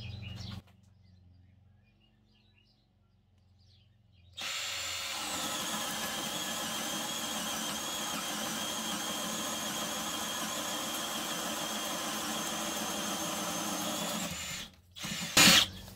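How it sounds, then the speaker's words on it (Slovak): After a quiet stretch, a Milwaukee M18 CBLDD cordless drill on first speed, drill mode, with a fully charged 4 Ah battery whirs steadily into wood for about ten seconds, then stops, followed by a short clatter. "Pokračujeme vŕtačkou Milwaukee na prvej rýchlosti, režim vŕtania, plne nabitá 4 Ah batéria."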